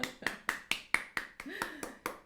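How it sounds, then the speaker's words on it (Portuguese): A handful of people clap on a Brazilian podcast, about ten sharp, evenly spaced claps in a steady rhythm, fairly close and moderately loud, with a faint voice underneath. "Palmas, Brasil!"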